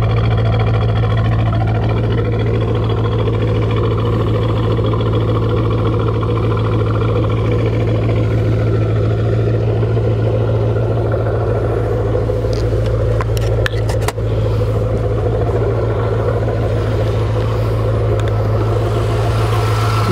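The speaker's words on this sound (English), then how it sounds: "This exhaust gives a nice rumble." A 2004 Corvette convertible with a stock 5.7-liter 350 V8, 6-speed and aftermarket exhaust idles with a steady, deep low rumble, close and loud, with a few brief clicks partway through and no talking.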